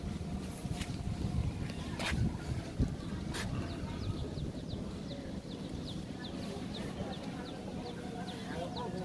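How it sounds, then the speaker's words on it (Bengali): Cold wind blows outdoors in the moments before rain, a steady gusty rumble buffeting the microphone, with faint birds chirping in the background. "মানে বাতাস ছাড়ছে তো, ঠান্ডা বাতাস।"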